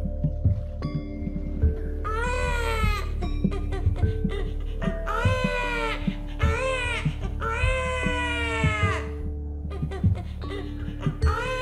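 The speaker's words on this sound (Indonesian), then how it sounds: "itu adalah tangisan anaknya." A baby cries in repeated drawn-out wails set against a steady low background drone, the sound carrying through a tale of a Sumatran elephant story in Air Sugihan.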